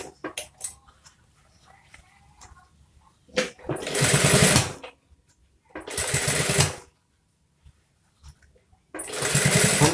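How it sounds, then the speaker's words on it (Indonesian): Sewing machine stitching a trouser waistband where the band meets the body, running in three loud close bursts of rapid stitching separated by quiet pauses and faint handling noises. "Jahit di antara atau pertemuan selak antara ban dan badan."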